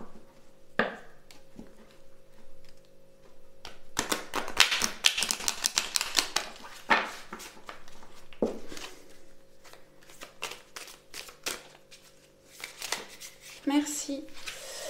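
A deck of tarot cards being shuffled, with bursts of riffling and rapid card clicks in several separate rounds and quiet gaps between them, close and fairly loud, with a few brief spoken words.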